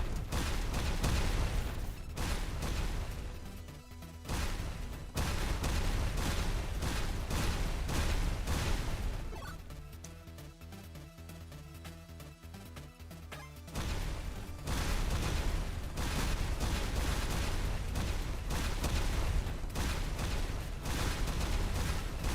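Heavy rumbling booms and bursts of gunfire-like blasts from the video game Girls' Frontline 2 pound almost continuously, with a quieter stretch in the middle before the dense barrage resumes.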